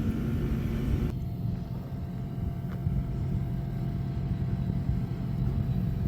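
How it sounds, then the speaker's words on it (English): A four-wheeler on a farm idles with a steady low engine rumble throughout, after a louder, rougher burst in the opening second that cuts off abruptly; close and continuous, with no talking. "George is trying to get the four-wheeler started where he can take it back to the house from the farm"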